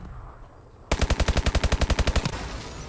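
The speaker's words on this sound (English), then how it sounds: "Somebody's shooting at me." A rapid burst of automatic gunfire in Call of Duty: Advanced Warfare, about fifteen evenly spaced, punchy shots lasting over a second, loud and close after a quieter game ambience.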